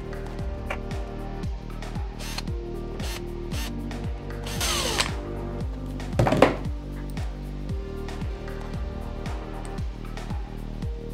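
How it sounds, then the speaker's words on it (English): A small power driver backs four screws out of a WLtoys RC car, giving a close, rapid, repetitive buzzing and whirring with short stops between runs and a few clicks and rattles of loose parts. "So then we can get the 4 screws off here."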